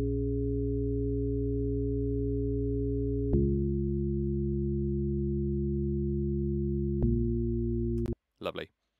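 Sustained synth chords spread over several octaves, built in Ableton Live for a Bicep-style rave track, held steady with two chord changes, then cutting off before a short burst of noise at the end.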